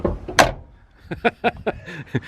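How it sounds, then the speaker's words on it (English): The heavy door of an old, somewhat rusty square-body Chevrolet 4x4 truck thuds shut, followed by a string of lighter clunks and clicks as the latch and hinges are worked, close and fairly loud. "You're all excited that the doors shut."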